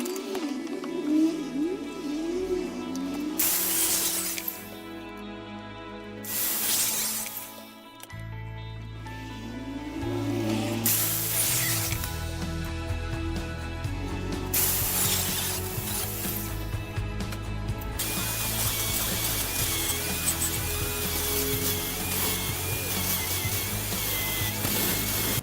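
Steel square tube being cut to size with a power tool in repeated loud grinding passes, separated by short pauses, then a long continuous cut.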